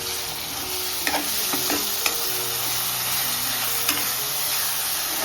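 Ground masala paste sautéing in hot oil for a prawn rassa, a steady close hiss of frying with a few light knocks and scrapes from a stirring spoon, and nobody speaking.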